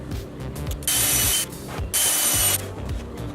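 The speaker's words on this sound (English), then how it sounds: "I have drawn onto the bottom of the board where I'm going to countersink the screws at" A power drill bores countersinks into the underside of a wooden board for a crosscut sled, two bursts of high whining spin with clicking mechanical noise between, close and fairly loud.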